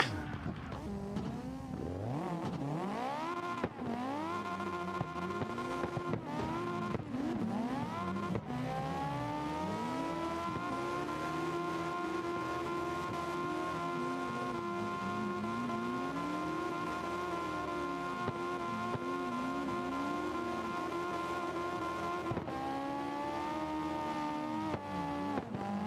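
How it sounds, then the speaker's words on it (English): Race car engine in a sim racing video game at open practice, a loud sustained engine drone with rising and falling revs, gear shifts and occasional tire squeal, steady throughout with no talk. "God, this car is so smooth to drive, man."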